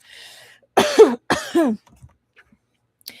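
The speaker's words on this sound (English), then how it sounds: "He coughed, aggravating his blood and chi." A narrator's voice acts out a wounded, short-of-breath man coughing: two close, rough, voiced bursts, then a few faint breaths and small clicks.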